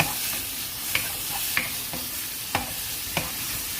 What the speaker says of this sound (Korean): 겉에만 살짝 가벼운 느낌으로 볶아주시면 되고요